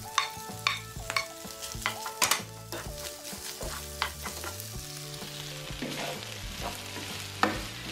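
Nopales and longaniza sizzle steadily in a frying pan while a utensil stirs and scrapes the pan in repeated sharp clinks, close and clear, with no talk.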